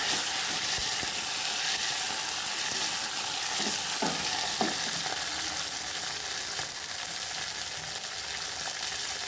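Garlic and red chili frying in oil in a pan, a continuous loud sizzle with scraping stirring strokes heard clearly midway.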